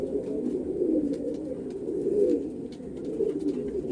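Domestic pigeons in a loft give low, rolling coos in several close phrases, with faint scratches and rustles between calls.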